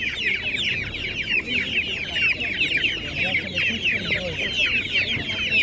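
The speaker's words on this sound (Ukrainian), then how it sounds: "Кого цікавить і курка, і яєчко, і різні різні породи курей" Many chickens cluck and chatter steadily in a dense, busy chorus, with murmured voices and market bustle underneath.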